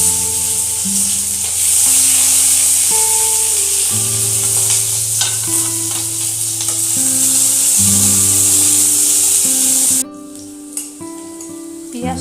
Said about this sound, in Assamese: পিঁয়াজ নহৰু আৰু জলকীয়াখিনি অলপমান ভাজিব লাগিব